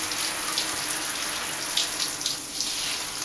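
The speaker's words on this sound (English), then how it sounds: "turn on the water." Steady rush of water running from a tap while a dog is being bathed, a constant hissing splash heard alone, fairly close and moderately loud.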